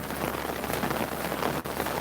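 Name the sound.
rain falling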